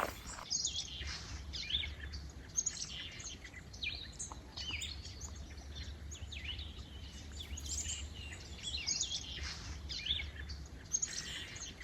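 Several wild birds sing and call, including a hairy woodpecker, black-capped chickadee and Philadelphia vireo, in the Sax-Zim Bog on a brisk early fall morning, with steady chirps and tweets over low background hum and no talking.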